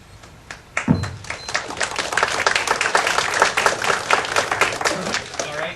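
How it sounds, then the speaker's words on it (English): A debate audience breaks into applause after a thud, scattered claps quickly building into steady, fairly close clapping that carries on to the end. "We don't need to applaud after each time"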